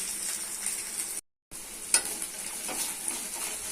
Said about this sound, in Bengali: পেঁয়াজ লাল হয়ে গেছে দিচ্ছি আদা রসুন বাটা আদা রসুন বাটা একটা লম্বা ভাজতে ভাজতে